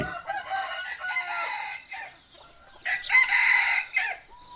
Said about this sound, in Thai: เสียงไก่ขันในหมู่บ้าน